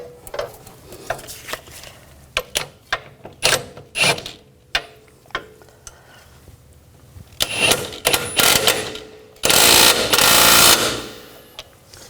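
A nut being tightened onto a shock bolt on a BMW X5 rear suspension, with a string of sharp ratchet clicks in short bursts, close up, and a denser burst of rapid ratcheting near the end.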